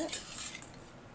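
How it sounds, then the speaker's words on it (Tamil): Brinji rice being mixed with cashews and fried bread in a pressure cooker pot, giving a short burst of close metal spoon scraping and clinking. "இதை நல்லா மிக்ஸ் பண்ணி விட்டுக்கலாம்."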